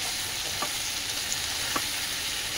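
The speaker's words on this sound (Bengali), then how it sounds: "এটাকে ভালো করে একটু কষে নেবো" Tomato fries with ginger paste, turmeric and salt in a pan, a faint, even sizzle with a couple of light stirring scrapes.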